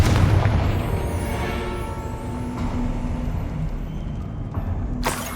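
A booming spell explosion from the Confringo curse in Hogwarts Legacy, a deep rumbling blast with a sustained low roar and a sharper burst near the end, heard alone without talk.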